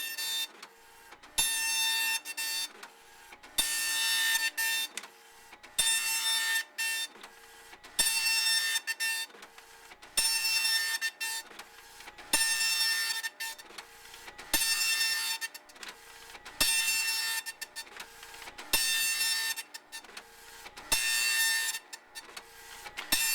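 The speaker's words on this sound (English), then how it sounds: "While we're printing this out" An Epson LQ-500 dot matrix printer prints, its print head buzzing in repeated passes of roughly two seconds each, broken by short pauses and mechanical clicks as the carriage returns, steady and close.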